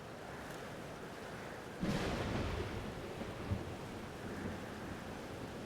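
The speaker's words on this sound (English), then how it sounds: "Weather's worse than I remember it. Storm followed me." A storm in Life is Strange: Double Exposure sends a rumble of thunder over a constant roar of wind, rain and crashing surf, loud and unbroken.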